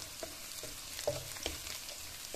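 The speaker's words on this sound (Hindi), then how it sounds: "लहसुन डाल दिया, लहसुन सौते करने लगी" Garlic and cumin seeds sauté in a pan with a soft, steady sizzle, broken by faint scraping stirs; quiet and close.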